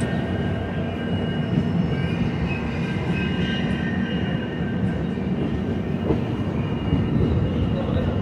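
A passenger train from Lokmanya Tilak Terminus to Pithapur runs along the rails, heard from inside as a loud, continuous rumbling roar with faint rhythmic wheel clatter throughout.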